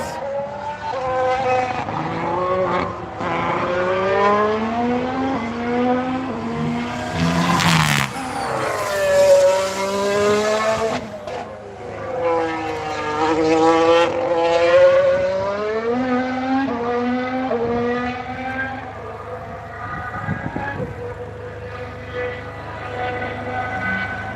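Race cars with Renault and Ferrari engines heading into the pits, their engines loud and sweeping up and down in pitch as they pass close by, with an airborne whoosh near the middle and a steady roar throughout.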